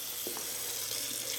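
Hot water runs steadily from a household tap, a continuous hiss of flowing water at moderate distance with no talk.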